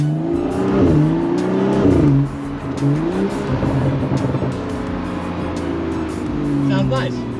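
BMW 435i M-Sport with an Akrapovic exhaust in Sport Plus mode revving and accelerating close by, engine note rising and falling in loud sweeps, with occasional pops toward the end.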